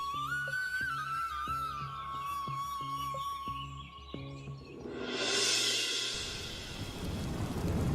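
A cartoon thunderstorm begins with a whistling tone over rhythmic ticks, then breaks into a swelling roar of rain and rumbling thunder that holds steady to the end.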